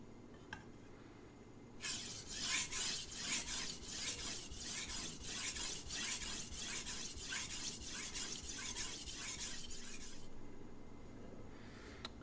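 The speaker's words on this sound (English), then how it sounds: "sharpen it on the Chosera" A dull kitchen knife is drawn across a Naniwa Chosera 1000 grit whetstone in a steady run of rhythmic rasping strokes, close and fairly loud, lasting about eight seconds before stopping.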